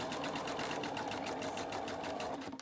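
Sewing machine stitching fabric in a steady, fast rhythmic run of needle strokes, close and continuous with no talk.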